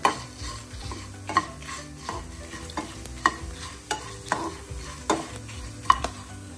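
Cumin and mustard seeds sizzle and fry in hot oil as a utensil stirs and scrapes the pan in repeated sharp strokes, close and clear with no talking, while cooking bisibelebath.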